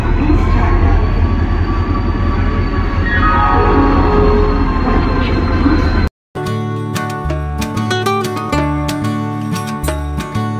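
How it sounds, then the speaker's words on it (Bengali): An Indian Railways train pulls into a station platform with a loud, dense rumble and grinding roar that fills the first six seconds. After a brief cut, a different, steadier tonal sound follows. "তো আমাদের ট্রেন ছাড়ার 20 মিনিট আগে দেখি প্ল্যাটফর্মে ট্রেন ঢুকছে।"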